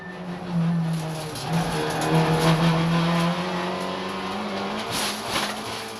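TCR touring race cars roar off the grid at a 2017 TCR Benelux race start, a loud, dense pack of engines revving and droning, with occasional tyre squeal as cars jostle for position.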